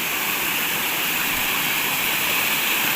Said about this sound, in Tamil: இங்கே பாருங்க தண்ணி ஊற்றுறத,